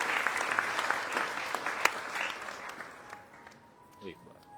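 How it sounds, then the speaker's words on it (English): An audience at a Bhagavat Katha gathering in Faridabad claps for donors, a lively wash of many hands that fades out over the last second, leaving quiet room tone with a faint voice. "Please clap hands for them."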